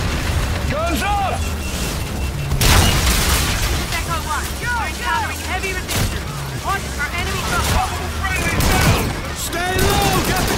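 Heavy gunfire erupts at a hot landing zone in Call of Duty: Infinite Warfare, rapid bursts and booming impacts with shouted voices mixed in, dense and continuous with a couple of louder blasts.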